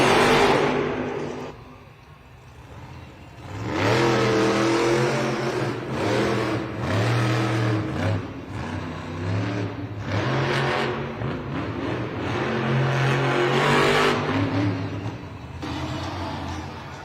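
The Monster Jam truck Megalodon revving hard during a timed arena race in Greensboro, a loud engine roar surging and dropping repeatedly, heard from a distance amid the arena's echo.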